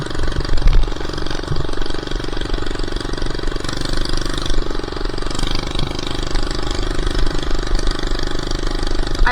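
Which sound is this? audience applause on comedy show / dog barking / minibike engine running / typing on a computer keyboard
minibike engine running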